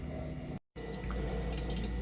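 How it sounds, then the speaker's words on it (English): A used Spectra watermaker desalination system produces fresh water aboard a boat, giving a steady close trickle and hum of flowing water with a brief cut of silence partway through. "So there you see the system making water."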